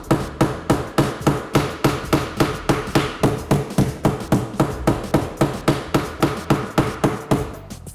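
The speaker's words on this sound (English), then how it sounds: "So get the panel beating hammer and just" A panel beating hammer taps steadily on a car body panel, working down a high spot with an even rhythm of crisp, close metallic knocks, about three per second.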